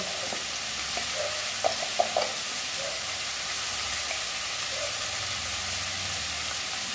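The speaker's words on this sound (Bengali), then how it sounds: "এই চামচে, ছোট্ট চামচে 1 চামচ জিরেটা আমি ভালো করে কষে নেব।" Spices with salt and turmeric frying in a pan, a steady hissing sizzle with a few soft clinks of stirring, moderately loud and close.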